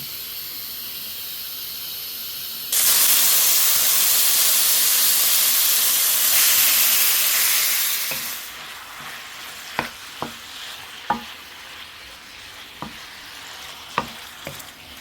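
Pork hits hot oil in a pot with a sudden loud, steady sizzle that holds for several seconds, then fades to a quieter crackle broken by a few sharp clinks and knocks.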